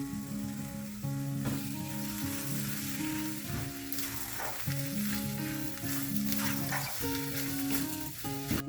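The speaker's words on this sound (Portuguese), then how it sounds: "Agora eu vou acrescentar meio sachê de molho de tomate." Tomato sauce goes into a pan of sizzling chicken lasagna filling, a loud continuous frying hiss with stirring scrapes and bursts of spattering, close up and with no talk.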